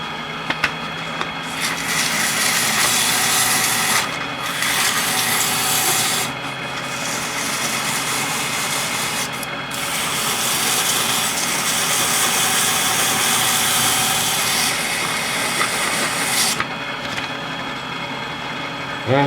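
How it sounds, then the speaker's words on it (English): A power sander with 320-grit paper whirs loudly with a rough rasping grind on an oil container, running in long stretches with short pauses between passes. "it's going to be some sanding going on"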